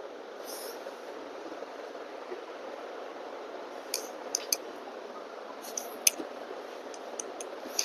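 Scissors cutting cloth for a school uniform skirt, with a handful of faint crisp snips and clicks scattered over a quiet steady background hiss, no speech.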